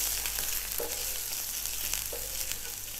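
Finely chopped ginger and garlic sauté in a hot pan with a steady, soft sizzle, plus a couple of brief stirring scrapes, heard alone at moderate level.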